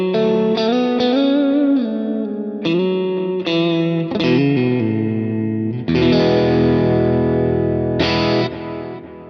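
An electric guitar runs through a Kemper profiler with heavy delay, a loud distorted tone playing a phrase of sustained notes and chords whose repeats smear into one another, with no voices.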